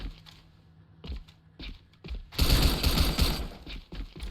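Gunfire in the tournament shooter A.V.A: a few isolated sharp shots are followed by a dense, sustained burst of rapid automatic fire that fills the second half of the clip.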